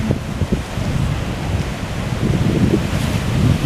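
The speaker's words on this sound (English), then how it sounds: "just watch the surf coming in also" Surf rolls in against the lava coast of Maui, a steady low rumbling wash of waves mixed with blustery wind noise on the microphone.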